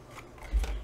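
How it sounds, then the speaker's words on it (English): A brief, close crunching snip of scissors cutting through fabric for a zig zag double pocket, one short cut that swells in the middle. "Use your scissors, cut just below it,"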